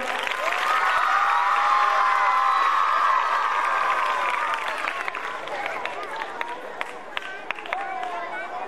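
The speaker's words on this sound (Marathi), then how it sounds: "टाळ्यांचा आवाज." A school gathering applauds a prize-winning student athlete, with crowd noise and scattered cheers at first, then fading into sparse, uneven claps, heard at moderate distance under ongoing speech.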